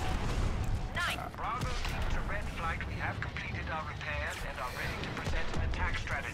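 Explosions and blaster fire boom in Star Wars Battlefront's Rogue One X-Wing VR mission on PlayStation VR, several rumbling blasts with whooshing fly-bys over a busy game soundscape, while someone talks over the action.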